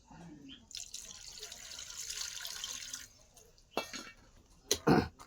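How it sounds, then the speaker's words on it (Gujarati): Water pours in a steady rushing stream for a couple of seconds, then a few sharp knocks and clatters follow. "હવે નાખી દેવાનું છે આપણે પાણી."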